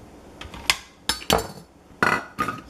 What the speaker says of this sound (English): You just chop it into pieces that are manageable in size.